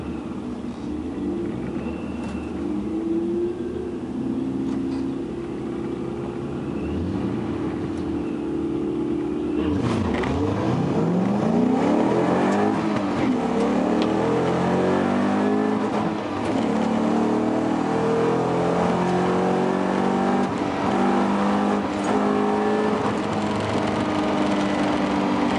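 Drag racing cars, a Dodge Neon and a Ford Mustang at the 2010 NHRA Gainesville meet, rev loudly and launch partway through, their engines sweeping up in pitch with repeated gear-change rises as they pull away, with no voices over them.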